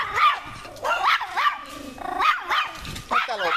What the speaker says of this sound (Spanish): Y empiezo los perros a ladrar.